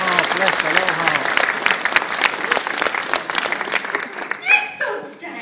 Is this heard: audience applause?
yes